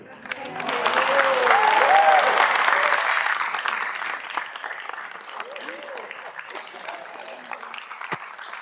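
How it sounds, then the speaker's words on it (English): Applause from the audience at a council meeting on a harbour development, a dense burst of clapping that builds over a couple of seconds, then thins and tapers off while a voice speaks over the tail end. "We just saved the applause for after."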